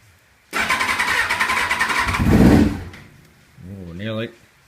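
A Kawasaki ZX6R J1 motorcycle with a stuttering fault cranks with a rapid rhythmic whirr, catches briefly with a rising rev, then dies away before a short voice.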